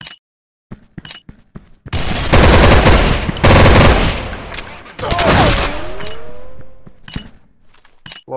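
Loud bursts of automatic machine gun fire in a bomb-defusal shooter match, two long sustained volleys separated by a brief pause, then scattered single shots and clicks near the end.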